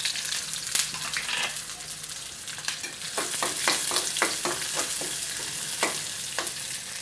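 Onion, bay leaf, cinnamon and cumin fry steadily in a pan for a lentil-and-egg curry, a constant close hiss broken by a run of sharp scraping stir strokes in the middle and a few more near the end, with no voices.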